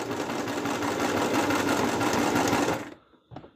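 A sewing machine stitching a costume runs in a fast, steady close-up chatter for about three seconds, then stops abruptly, leaving a brief soft click afterward.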